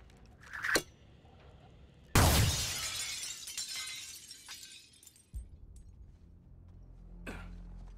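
Glass shatters loudly in Suicide Squad Kill the Justice League, one sudden crash followed by a tinkling spray of falling shards that fades over a couple of seconds, with lesser thumps before and after.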